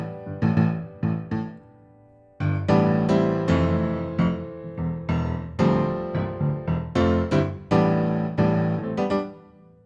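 Upright piano software instrument playing a lively, rhythmic passage of repeated chords with a strong bass register, loud and close, with a brief pause near the start and no talking.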